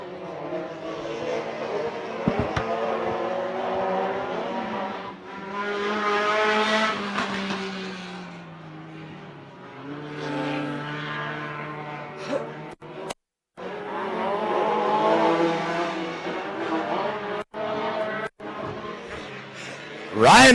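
Off-road race trucks at Wildhorse Pass, Arizona, roar through a turn, engines rising and falling in pitch as they pass, with brief cuts in the sound, and a commentator talking over parts of it.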